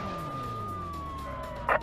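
A wailing ambulance siren sweeps slowly through its tone in a Worlds Scariest Police Chases game on PS1, loud and continuous, with a sharp clatter near the end.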